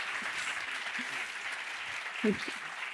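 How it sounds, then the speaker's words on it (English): Applause from the audience at a panel conversation on the French art scene in Paris, a faint, even wash of distant clapping with a brief voice breaking through near the end. "A big round of applause."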